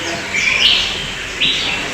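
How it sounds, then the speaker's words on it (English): Small, colorful tropical birds in a warm zoo house give a couple of high, thin chirping calls over a steady background hum of the enclosure. "They are the little birds, very colorful birds."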